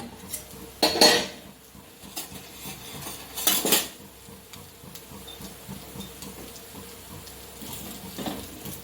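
Aval and jaggery kuzhi paniyaram lifted out of a paniyaram pan, with metal utensil clinks and pan scrapes in a few sharp bursts over a quiet kitchen background.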